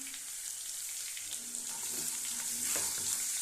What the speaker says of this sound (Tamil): அதை அப்படியே வதக்கி விடலாம்